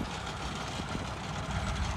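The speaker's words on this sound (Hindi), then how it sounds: "क्या शानदार आवाज़ से ट्रैक्टर चल रहा है भाई" A John Deere 5210 tractor engine runs steadily nearby in a field, its low rumble continuous and even, with no talking.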